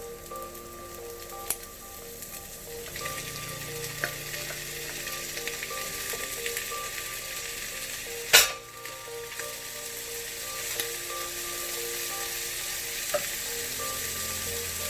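Scotch bonnets, scallions, onions, tomatoes, garlic and Thai peppers frying for ackee and fish, a steady moderate sizzle with occasional utensil clicks and one sharp knock midway.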